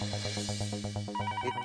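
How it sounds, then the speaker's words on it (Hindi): A telephone rings early in the morning with a rapid, trilling bell in steady pulses, close and clear, then shifts to a higher tone near the end. "सुबह सुबह फोन करके कौन परेशान कर रहा है"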